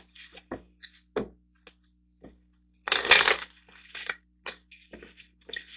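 Tarot cards for a love reading being shuffled and laid out: soft scattered taps and slides at close range, with one louder burst of riffling partway through, no talking.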